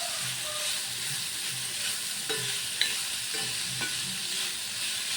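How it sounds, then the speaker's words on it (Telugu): Vegetables fry in a pan with ginger-garlic paste for prawn fried rice, a continuous close sizzle with soft stirring scrapes and a few light utensil taps, steady and unbroken, no voices. "కొంచెం ఫ్రై అయ్యాయి కదా వెజిటేబుల్స్. ఇందులోనే కొంచెం ఉద్దేశాను అల్లం వెల్లుల్లి పేస్ట్, అది యాడ్ చేస్తున్నాను."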